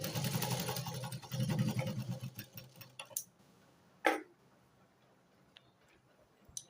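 A sewing machine runs a stitch line on the waistband strips of a blouse, a fast, steady whirring that slows and stops partway, followed by a few sharp clicks and a soft handling thud.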